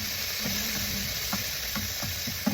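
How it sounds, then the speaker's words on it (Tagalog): Garlic, onion and tomato sautéing in rendered pork fat give a steady, close, loud sizzle with a few soft scraping stirs, and no talking. "Gisa tayo ng ating ahos, sibuyas, and kamatis."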